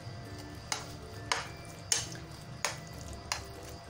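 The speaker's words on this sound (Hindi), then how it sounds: "इसको अच्छी तरह से मिक्स कर लेंगे।" Salt is stirred into a chicken pakora mixture in a bowl, with a soft continuous mushy stirring broken by five sharp clinks of a utensil striking the bowl at roughly even intervals, close and quiet.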